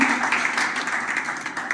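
A family gathering audience in Indore claps together at the opening of a celebration, a steady indoor patter of hands at moderate level with a faint voice underneath.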